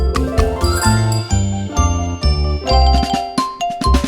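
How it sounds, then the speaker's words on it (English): Bright jingling bells ring in a cheerful Christmas nursery song, with repeated tinkling hits riding over a bouncy musical backing, loud and close, with no voices. "The bells on the bus go jingle, jingle, jingle on a Christmas day."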